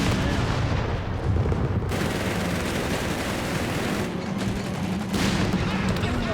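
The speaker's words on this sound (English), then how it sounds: "great shot of the point blank blast, almost had the entire machine gun crew" A point blank blast lands in the Company of Heroes 3 battle, a loud dense roar of explosion and gunfire that stays heavy throughout, mixed with ongoing combat noise.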